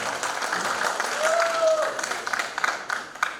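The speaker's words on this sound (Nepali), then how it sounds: "उहाँको लागि एकचोटि जोरदार तालीको स्वागत।" A studio audience at a singing-competition grand finale applauds a singer: dense, steady clapping with a thin whistle-like tone rising through the middle and a few sharper claps near the end.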